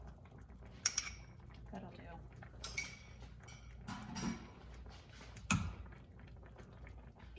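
Mixed batter for matcha mochi or cassoulet being tipped into a cooking pot, with utensils clinking and scraping against it in a few separate bright knocks, close by, alongside intermittent talk.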